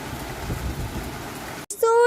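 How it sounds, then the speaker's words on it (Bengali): Rain falls in a steady, soft wash of patter for a moment, then cuts off abruptly and a voice begins speaking. "এদিকে বৃষ্টি হচ্ছে"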